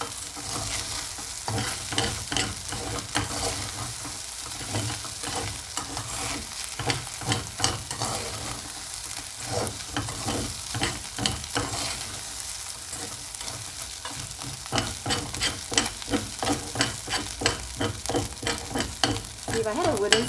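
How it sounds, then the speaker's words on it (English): Rice being stir-fried with vegetables in a hot pan, a steady sizzle broken by repeated scraping and stirring strokes of a utensil against the pan, close and fairly loud throughout with no talking. "And then you just kind of incorporate the rice into it and"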